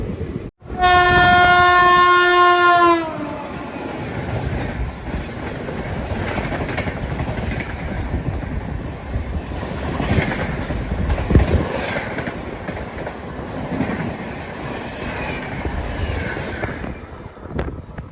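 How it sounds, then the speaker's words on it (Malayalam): Netravati Express horn blares loudly for about two seconds, then the train rushes past at speed with a sustained roaring rumble and rattle of carriages, heard close by from a nearby train. "നേത്രാവതി എക്സ്പ്രസ് അത് നല്ല സ്പീഡിൽ പോയി."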